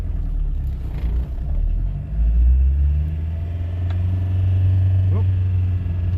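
An old car's engine starts up and settles into a low, rumbling idle with uneven throttle surges, heard close by in the open with a few faint clicks and knocks over the motor.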